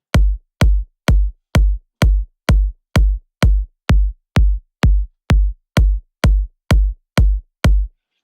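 Two layered kick drum samples struck together in a steady rhythm, about sixteen hits, each a punchy deep thump topped with a sharp natural click, loud and close with no voices.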